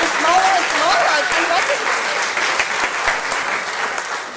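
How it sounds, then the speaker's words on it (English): Audience applause at a Baldwin Park city council regular meeting, a steady wash of many hands clapping that holds for several seconds, with a few voices faintly audible underneath. "So let's give them a big round of applause for all the hours of volunteerism."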